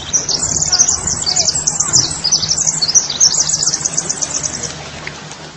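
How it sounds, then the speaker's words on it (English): A recording presented as the sound of the Earth itself, resembling birdsong: dense, continuous high chirps and tweets ripple steadily over a faint low hum for the whole stretch. "When we hear the sound of the earth, we can see it sounds deeply similar to the sounds of birds singing."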